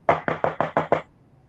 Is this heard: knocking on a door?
yes